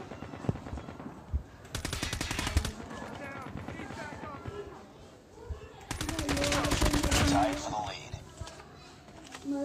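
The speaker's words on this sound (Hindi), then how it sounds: "मिनी गन की मशीन गन" A minigun in a Call of Duty match fires two long, dense bursts of rapid gunfire, loud and close, with other shots and players talking in between.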